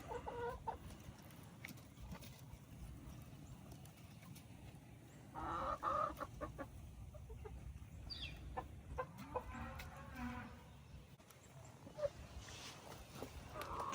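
Chickens cluck faintly in a yard, soft intermittent clucks and a louder call or two at a distance, over low background noise with occasional other sounds.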